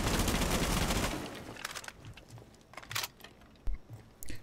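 A burst of rapid gunfire blasts a hole in a floor in Rainbow Six Siege, a dense loud volley for about a second followed by scattered debris crackles and a few sharp single hits.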